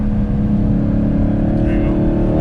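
A Dodge Hellcat powers through a turn, its engine a loud, close, steady throaty roar held under throttle, with people talking over it from inside the car.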